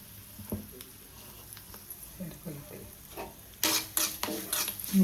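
Asafoetida goes into a mustard-seed tempering of hot oil for a ridge gourd and tomato chutney. Soft scattered crackles and stirring scrapes build into a louder burst of sizzling with spoon clatter near the end.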